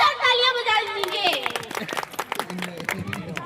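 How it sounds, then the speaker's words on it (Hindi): An audience at a Gangaur festival event claps together in a dense burst, loud at first and then thinning into scattered claps, with voices mixed in. "तो इस गेम से पहले सभी एक बार जोरदार तालियां बजा दीजिए।"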